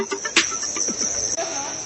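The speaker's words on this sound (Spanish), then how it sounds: "La plaga de grillos que se registra en Hermosillo" Crickets during a cricket plague in Hermosillo, Sonora, chirp loudly and continuously in a dense high-pitched trill, with a few short scratchy rustles nearby.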